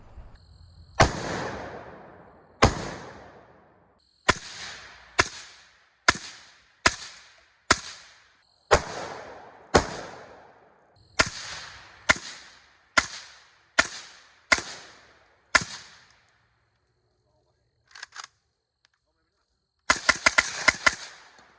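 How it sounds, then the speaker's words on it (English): Roughly seventeen suppressed shots from AK rifles fitted with a Black Anchor Tactical Nautilus suppressor, fired outdoors at dusk as sharp, close, evenly spaced single cracks. Each shot is followed by a brief decay, ending in a quick cluster of shots after a pause. "we're going to shoot it again on both the AK platforms to see what type of flash we get"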